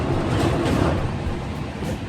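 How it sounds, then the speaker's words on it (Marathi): Train running through the Chambal valley, heard as a loud, steady, close rumbling roar with no clear pauses across the short stretch. "ही चंबल घाटी आहे ट्रेनचा आवाज बघू शकता"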